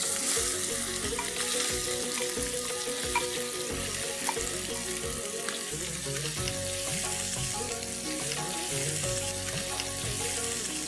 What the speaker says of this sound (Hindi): अब हम डालेंगे 4-5 उबले कटे हुए आलू।